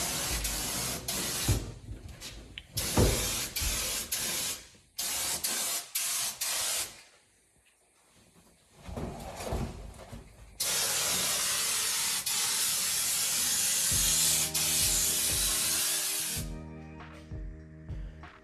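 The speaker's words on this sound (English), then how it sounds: "it was time to paint the back half of the cab" Bursts of spray hiss start and stop repeatedly while painting a Holden HX panel van cab, then one long continuous hiss runs to the end alongside a low mechanical hum.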